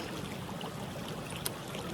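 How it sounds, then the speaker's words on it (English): Box Canyon Creek flowing in a forest, a steady, even wash of running water close by with no talk, and one brief brighter splash partway through. "I'm just down by the creek, Box Canyon Creek"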